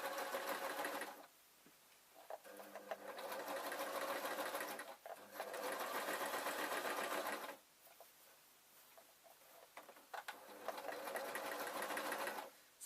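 A sewing machine stitches fabric for a pumpkin costume in three bursts of fast, close whirring, separated by short pauses where the motor stops between seams.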